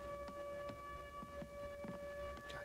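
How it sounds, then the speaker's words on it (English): Air raid siren in the video game The Bureau, a steady sustained wail held on a constant pitch, fairly faint under other game sounds with soft thuds scattered through. "that fucking air raid siren is"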